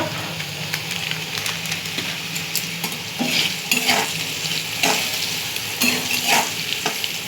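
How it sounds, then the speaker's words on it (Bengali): Diced carrot, potato and green chilli fry in hot oil, giving a steady sizzle with occasional scrapes and clinks of a spatula stirring against the pan. "তারপর গাজর আলু আর কাঁচা লঙ্কা কুচিটা তেলে দিয়ে দিয়েছি। এগুলো ভাজা হচ্ছে"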